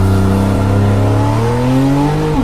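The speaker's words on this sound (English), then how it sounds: "We believe the sports exhaust system with central tailpipes and increased idle speed is particularly well made and emotive" Porsche 911 Carrera GTS with a sports exhaust with central tailpipes, revving loud and close as its engine note climbs in pitch over a couple of seconds.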